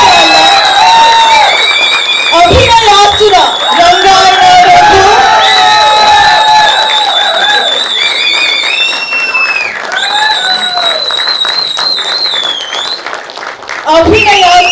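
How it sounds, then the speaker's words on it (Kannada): Loud applause and cheering from an audience at a stage event honouring actor Rangayana Raghu, with whoops and shouts over steady clapping, while a voice and music run through it. "ಜೋರಾದ ಚಪ್ಪಾಳೆ"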